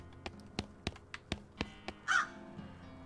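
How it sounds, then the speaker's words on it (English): Crow caws from the West of Loathing video game, a rapid series of sharp, evenly spaced clicks or taps followed by a short, bright caw, moderately loud and with no talking. "Caw."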